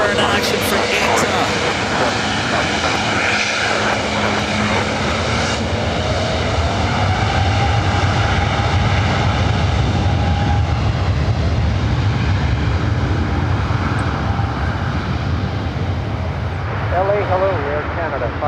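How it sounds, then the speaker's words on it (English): An ITA Airways jet airliner departs Los Angeles with a steady, loud engine roar that swells and holds throughout, while a voice talks over it. "Little turn and burn action for Ita."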